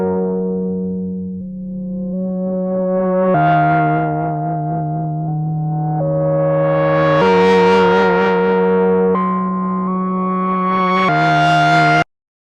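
A dry synth pad plays a slow sequence of sustained chords, each held for a couple of seconds, clean and without reverb, ending abruptly.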